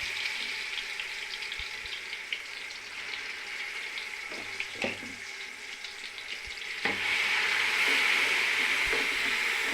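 Onion fries in hot oil for a mini biryani, a steady close sizzle with occasional stirring clinks, growing louder and brighter toward the end.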